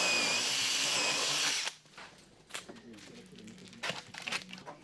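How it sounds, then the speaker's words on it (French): A power drill fitted with a wood bit bores through wooden laths in an attic, whining loudly and steadily for about a second and a half before stopping, followed by quieter handling clatter and faint rustling. "Forez bien d'abord les lattes avec une mèche à bois."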